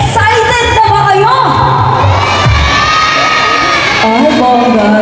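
A crowd of children and parents cheers, shouts and whoops loudly and continuously at a mall talent audition for little performers, with a few voices rising above the steady roar.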